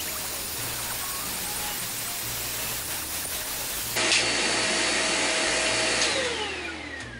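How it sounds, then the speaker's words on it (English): A Dremel rotary tool smooths the sharp edges of resin coasters, producing a steady, loud high-pitched whine and grinding hiss that changes tone partway through as the bit bears harder on the resin. "But I do always take my Dremel and just make sure that this is not sharp"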